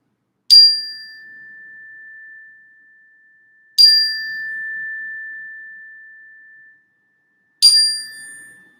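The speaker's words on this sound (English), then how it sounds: "I'm gonna just do this little sound bell" Three struck rings of a sound bowl, each a bright strike followed by a long sustained hum that slowly fades, with silence between.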